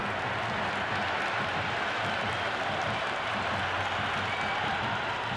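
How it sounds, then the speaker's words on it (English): Stadium crowd cheering in a cricket video game, a steady, dense roar of applause and crowd buzz held at an even level throughout, heard alone and slightly distant. "It's the most enthusiastic crowd you could ever see right now. There's a buzz, a real buzz coming from the stands."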